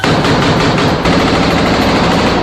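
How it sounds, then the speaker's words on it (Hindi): Israeli soldiers fire guns inside Jabalia camp during a raid. The gunfire is loud, dense and continuous, with rapid bursts merging into a steady roar for the whole stretch and a brief dip about midway. "वीडियो में इजराइल के सैनिक जबालिया कैंप के अंदर फायरिंग करते दिखे"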